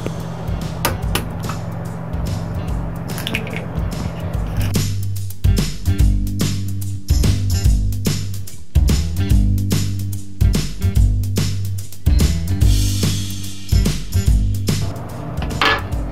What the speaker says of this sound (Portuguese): colocando os ovos